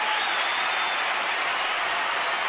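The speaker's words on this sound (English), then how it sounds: "Big Oriole crowd making some noise for Matt Wieters." A big Orioles home crowd at a Baltimore baseball game against Boston cheers and applauds for Matt Wieters, a steady, full roar of clapping and voices throughout.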